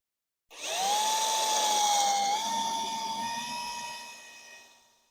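A drill spins a 15 mm wood bit into a small piece of hardwood, giving one close, high motor whine that holds steady for several seconds before slowly fading out.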